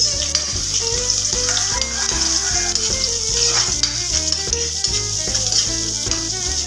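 Garlic and onion frying over low heat in a pan for chopsuey, a constant hissing sizzle under regular rhythmic stirring and scraping, with steady background music throughout.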